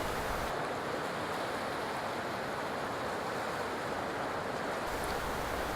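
Heavy ocean surf off a Hawaiian shore where monk seals bob in the water, a steady broadband roar of breaking waves with no voices, loud and continuous throughout.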